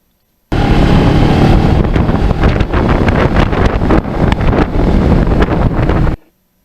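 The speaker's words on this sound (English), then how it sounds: "today the wind was blowing for the whole day" Wind blows hard outdoors on an open road, pounding the microphone with loud, continuous rumbling buffets that start abruptly and cut off just as suddenly after several seconds.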